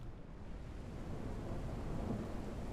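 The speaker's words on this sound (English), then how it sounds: "Got a storm blowing in." A thunderstorm weather effect in the mining game Out Of Ore, a low continuous rumble of thunder with rain-like hiss, steady and fairly loud without any talk.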